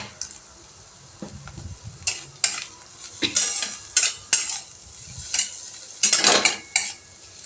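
Potatoes being sautéed with salt in a pan, with a spoon scraping and clattering in repeated bursts over a light sizzle.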